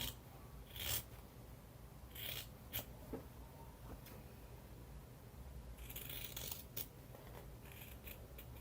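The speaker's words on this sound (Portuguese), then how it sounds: "a gente vai cortar rente em toda a volta, lembrando que na parte da abertura a gente não corta" Scissors snip fabric close around the edge of a handmade cloth wallet in a series of crisp, near cuts separated by short pauses, with no talking.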